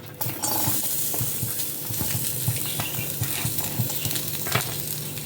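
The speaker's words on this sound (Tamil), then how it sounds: "தேவையான மசாலாலாம் வறுத்துக்கலாம். தேங்காய் போட்டுருக்கோங்க." Masala spices and grated coconut dry roasting in a pan for avarai (broad bean) kulambu, stirred steadily: a continuous close hiss and crackle with repeated scraping strokes of the spatula, no voices.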